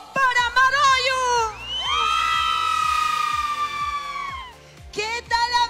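A concert crowd shouts and cheers in bursts, with a long sustained whoop in the middle and high excited yells from many voices, loud and close.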